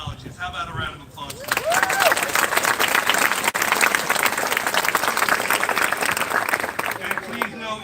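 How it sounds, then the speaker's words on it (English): Applause from the audience at a high school graduation ceremony, a voice trailing off briefly before dense, sustained clapping from a large crowd fills the rest of the clip at steady volume. "How about a round of applause?"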